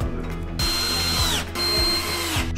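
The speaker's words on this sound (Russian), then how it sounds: "мастер подводит их вровень к правому и левому торцу изножья и крепит с помощью саморезов из комплекта фурнитуры" A power drill drives self-tapping screws from a fittings kit into the rails and footboard of a white 160x200 double bed with a lift mechanism, two loud whirring bursts winding down close by.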